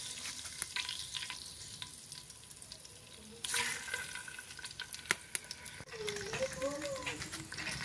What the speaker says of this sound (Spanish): Ya que se calentó el aceite, vamos a agregar los bisteces.